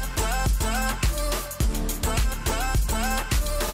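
A polished electronic pop track plays back loud and dense, with punchy kick beats on a steady pulse, deep bass and bright synth layers.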